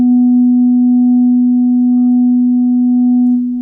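A steady, sustained synthesizer oscillator tone from DRC holding one pitch for several seconds, with a faint overtone above and a soft reverberant tail as it fades.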